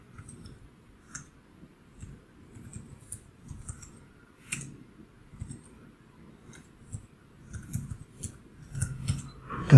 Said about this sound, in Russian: ввели пароль, жмем Enter